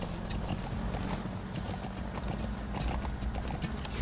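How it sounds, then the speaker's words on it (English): Horse hooves clip-clop in a steady, rapid gallop rhythm in the video game Metal Gear Solid V, continuous and fairly faint over a low rumbling background. "Un caballo solo."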